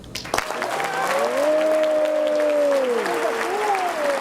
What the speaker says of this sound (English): I ask you, the audience, to please join me in a round of applause